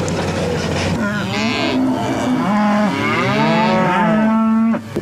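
Cattle on a hay-fed farm moo repeatedly, several long, loud, close calls overlapping one another with no talk.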